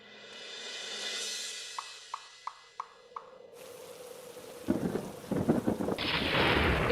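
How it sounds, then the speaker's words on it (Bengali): A steady rumble of thunder with a few sharp cracks, then heavy rain starts pouring loudly, drumming and splashing on surfaces. "এই তো ঝড় বৃষ্টি শুরু হয়ে গেল।"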